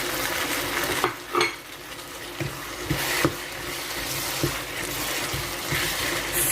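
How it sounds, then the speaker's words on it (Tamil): Garlic and thinly sliced onion sauté in a pan for a prawn gravy, a steady close hiss of frying broken by a few soft knocks and scrapes of a stirring spoon. "ஸோ இதை சேர்த்துட்டு ஒரு 5 நிமிஷம் இப்படியே வந்து வதங்க விடுவோம் ரெண்டையும்"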